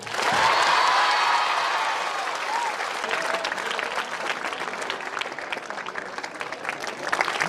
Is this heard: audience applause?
yes